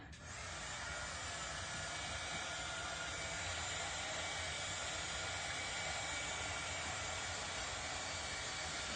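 Dryer blowing to dry a decoupage craft piece, a continuous broad whooshing roar that starts abruptly and holds steady and even for the whole stretch, with no talk.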